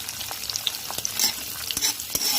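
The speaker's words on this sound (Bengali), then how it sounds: "এখন আমরা পেঁয়াজগুলো এটার মধ্যে দিয়ে দিচ্ছি।" Onions frying in a pan for chicken Manchurian, a steady bright sizzle with frequent short clinks and scrapes of stirring throughout, fairly close and alone.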